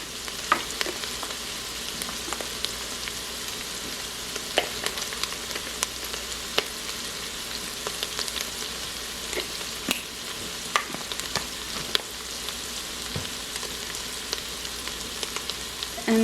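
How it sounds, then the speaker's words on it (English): Onions and oregano fry in a pan, a steady sizzle with scattered crackles and pops and occasional stirring scrapes, alone with no talk. "it says to cook this until your onions are soft"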